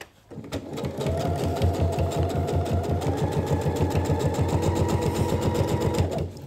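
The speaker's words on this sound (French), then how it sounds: "j'essaye quand même de coudre droit" A sewing machine runs steadily, stitching fabric in a fast, even rhythm of needle strokes with a low motor hum, starting after a brief pause and continuing loud and close for about six seconds before stopping.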